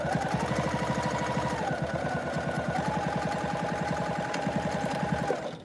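Sewing machine stitching a binding strip onto a tote bag with a quarter-inch seam, a rapid steady mechanical chatter of needle strokes with a whirring motor, close and continuous for several seconds before stopping.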